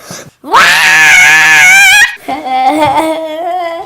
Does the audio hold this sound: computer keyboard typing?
no